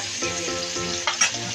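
Eggs frying in a pan with a steady close sizzle, a few brief stirring scrapes and clinks breaking through near the end.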